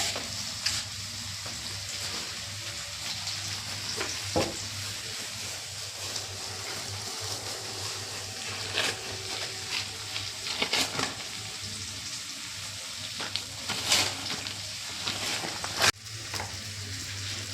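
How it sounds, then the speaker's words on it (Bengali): Potatoes sprinkled with poppy seeds frying in a pan, a soft steady sizzle with occasional louder crackles and stirring clatters, heard close and alone. "এদিকে রাত্রে রুটি খাওয়ার জন্য পোস্ত ছড়িয়ে যে আলু ভাজা হচ্ছে"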